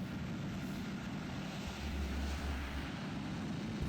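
Boeing 737 jet engines in an Unreal 5 flight simulator game spool up as a steady, broadband roar, a constant whooshing drone that swells slightly midway and carries on without talk.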